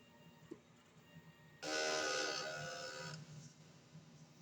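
DTF printer on normal-mode head cleaning cycle, a sudden loud broadband whirring and pumping burst lasting about a second and a half, then dropping back to quiet background hum.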